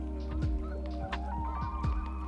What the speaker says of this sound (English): I guess some ducks coming in, this could be kind of cool.